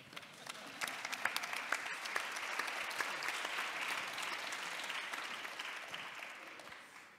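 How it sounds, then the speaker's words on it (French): Steady audience applause at a French research colloquium's roundtable on poverty indicators, dense and sustained for several seconds, moderately distant in a conference hall before tapering off at the end. "Et donc, on t'applaudit."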